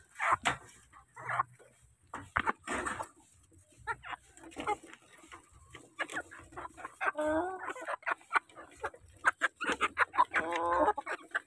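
Rhode Island Red chickens clucking in short bursts, with a few drawn-out cackles, and a person talking intermittently among the birds.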